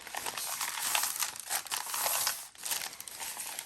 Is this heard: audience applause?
no